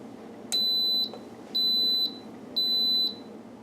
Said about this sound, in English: I will set my Instant Pot onto manual for 6 minutes